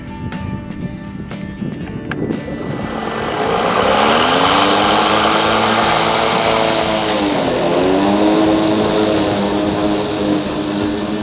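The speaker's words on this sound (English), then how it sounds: "how does the mower cut in super thick turf?" An Ego Power+ battery-powered lawn mower motor whirs steadily, its electric hum rising and falling in pitch as it cuts through thick turf, loud and close.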